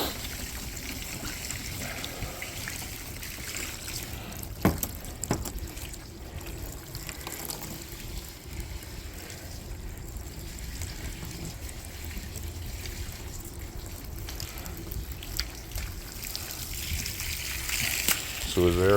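Water runs and trickles steadily over a car during a rinse meant to dry it, a continuous splashing wash with a few louder splashes near the end.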